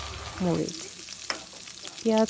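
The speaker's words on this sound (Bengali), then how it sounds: "তেল গরম হয়ে গেলে তার মধ্যে দিয়ে দিব কেটে রাখা পেঁয়াজ" Chopped onions fry in hot oil in a wok, a faint, steady sizzle broken by two short squeaky scrapes of a spatula.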